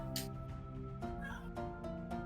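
A cat meows a few times, fairly close, over a steady low hum with some background noise.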